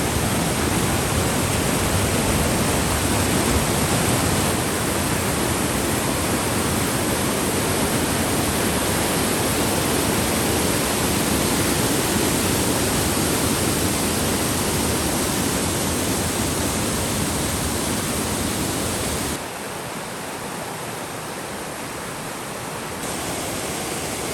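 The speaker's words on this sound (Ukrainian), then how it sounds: "І ось бонусом отримали ще такий невеличкий водоспад, який зараз і маємо для вас засняти." A small waterfall near Yaremche in the Ukrainian Carpathians gives a steady, close, broadband rush of falling water with no talk. The roar runs unbroken for over twenty seconds and drops a little in level near the end.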